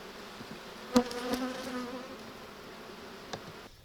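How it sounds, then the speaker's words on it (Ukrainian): Honeybees buzzing around beehives at an apiary in July, a close, steady insect drone with a couple of sharp knocks near the start, no voices. "Бджілки працюють."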